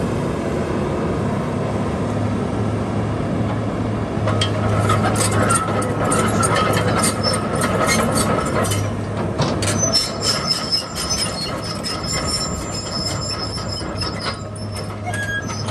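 Long-reach 2001 Kobelco SK210 LC excavator swinging around, a steady hydraulic and mechanical whine with rising metallic squeals and creaks, close and continuous with no talking.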